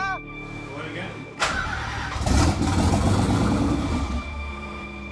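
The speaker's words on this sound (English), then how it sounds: "Priming the engine is cranking it with no spark in order to get oil flowing through it" A Nissan 300ZX engine cranked with no spark to prime oil: a brief tone, then the starter catches in with a loud, steady, rhythmic churning drone that runs on for several seconds, close by.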